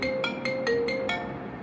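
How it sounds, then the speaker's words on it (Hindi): A phone ringtone plays during an incoming call, a repeating electronic melody of six short bright tones in a steady pulse, moderately loud and close, with no talking over it. "कुछ का फ़ोन आ रहा है."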